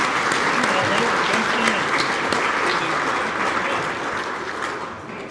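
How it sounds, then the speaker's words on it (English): Audience at a Hall of Fame ceremony applauding coaches, dense sustained clapping filling the room, steady and loud before gradually tapering off. "let's give a round of applause to all of our coaches there"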